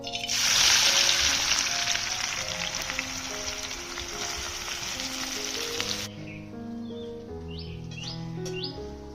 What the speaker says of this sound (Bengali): পেঁয়াজগুলো এবার বেরেস্তা করে নেব।